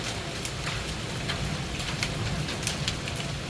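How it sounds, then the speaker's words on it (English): A steady, dense patter of rain and hail beats on surfaces during a storm, a constant wash of noise with scattered sharper impacts and no voices. "We need rain, but we sure as heck don't need this hail stuff."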